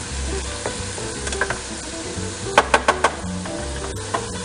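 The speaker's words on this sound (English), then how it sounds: "So our onions and garlic are sweating down nicely." Onions and garlic sweat in a pan for a vegetable curry, giving a steady, close sizzle with a run of four sharp spoon knocks against the pan partway through and no voices.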